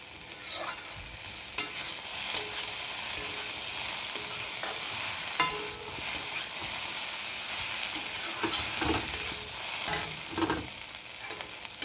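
Turmeric frying in a pan while a dish of taro stolons with dried fish is cooked, giving a steady close sizzle broken by scraping stirring strokes, with no talking.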